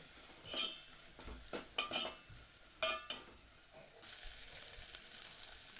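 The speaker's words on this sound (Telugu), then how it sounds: "మనము ఒక టీ స్పూను అల్లం వేసుకుందాము అలాగే ఒక హాఫ్ టీ స్పూను పసుపు వేసుకుందాము వేసుకొని మంచిగా కలుపుకొని" Ginger and turmeric sizzle softly in a frying pan while a spoon clinks and scrapes in several quick stirs, then a steadier hiss of frying takes over.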